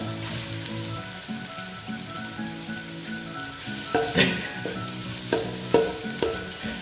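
Chopped onion hits a pan already holding golden garlic and ginger for papaitan, sizzling and crackling steadily, with a few louder pops and spatters near the end and no talk.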